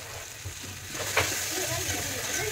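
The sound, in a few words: upma ingredients frying in a pan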